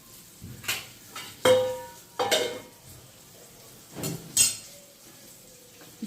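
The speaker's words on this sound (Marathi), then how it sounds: "दुसरा पण तवा ठेवला आहे मी, म्हणजे मला हे एवढे फिश फ्राय करता येईल पटापट." Metal pans and utensils clatter and clink in a home kitchen while fish fries on a second flat tava, with several sharp knocks spaced irregularly over a faint sizzle, close by and no talking.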